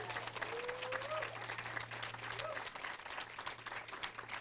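Sustained audience applause fills a building opening ceremony, steady dense clapping throughout with some crowd murmur and a brief voice mixed in.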